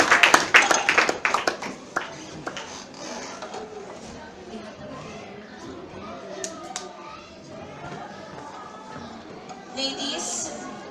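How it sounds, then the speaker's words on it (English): Debate audience applauding for a speaker on the affirmative side; clapping is loudest at the start and fades within about three seconds, leaving faint room chatter and murmur. "A round of applause."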